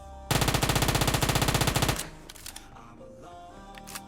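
Rapid automatic gunfire in a shooter video game, a dense burst of evenly spaced loud shots lasting under two seconds, followed by scattered clicks and quieter game sounds.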